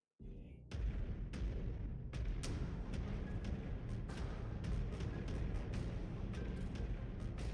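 A Gauss rifle on a mech in MechWarrior 5: Clans fires again and again, a string of sharp, loud cracks at an uneven rhythm over a constant battle rumble.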